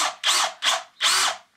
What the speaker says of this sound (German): Einfach einen Bohrer nehmen.